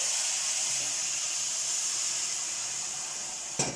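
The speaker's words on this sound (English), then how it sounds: "So I'm just going to put my stock" Broad steady sizzle and hiss as stock is poured into a hot pan of onions, carrots and rice, continuous and fairly close, ending with a brief clatter.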